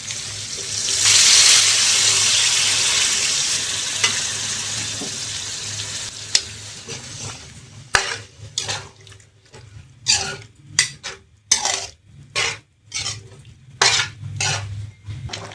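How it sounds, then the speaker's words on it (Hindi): Chickpeas (chole) tipped into a hot pan of spiced gravy for chole sabzi, first a loud steady sizzle of frying, then clinking, scraping stirring strokes against the pan in an uneven rhythm, with no talking. "और जी अब डाल देती हूँ मैं इसमें छोले"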